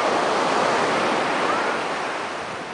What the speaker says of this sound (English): This is our favorite beach in Alagoas, Maceió.